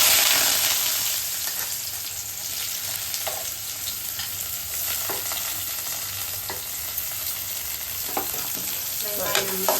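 Onion and curry leaves frying in a pan for kari dosai, giving a steady close hiss of sizzling oil punctuated by occasional spatula scrapes and clinks, with no talking.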